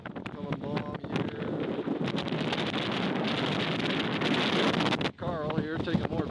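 Steady cold wind gusting hard against the microphone for several seconds on a mountain trail in Manti-La Sal National Forest, with brief outdoor speech near the start and end.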